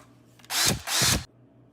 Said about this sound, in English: Now just go ahead and drill a hole in the handle part